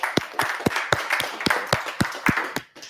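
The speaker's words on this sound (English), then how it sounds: "Let's give another round of applause." Small group clapping at a business talk, sparse distinct hand claps in an uneven rhythm, fairly close and quiet, tapering off near the end.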